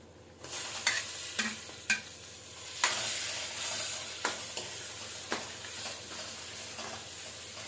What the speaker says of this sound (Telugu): ఇప్పుడు టమాటో వేసేసుకుందాం